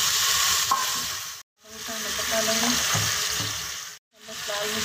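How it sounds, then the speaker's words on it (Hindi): Cluster beans, onions and potatoes fry in hot oil, giving a loud continuous sizzle with a stirring clatter, broken by two brief silent gaps. "अब हम इसमें गवार फली डालेंगे और इसको अच्छे से फ्राई करेंगे।"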